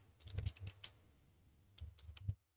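Keys clatter on a computer keyboard in two short, close bursts of quick taps separated by a brief pause.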